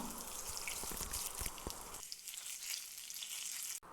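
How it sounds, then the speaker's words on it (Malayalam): Small onions sautéing in hot oil make a loud, dense sizzle with crackling pops for about two seconds, then the sound drops to a quieter, steady hiss. "നാലഞ്ച് ചെറിയ ഉള്ളി എടുത്തിട്ടുണ്ട് കേട്ടോ ഇതും കൂടെ ഒന്ന് വഴറ്റിയെടുക്കാം"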